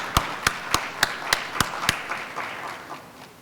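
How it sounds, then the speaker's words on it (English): At a public discussion on traffic stops and policing, an audience claps for Councilman Isaiah Thomas. Several sharp, evenly spaced claps stand out over a thin wash of applause that tapers off after about two seconds. "we could give Councilman Thomas a round of applause"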